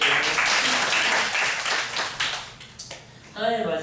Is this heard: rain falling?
no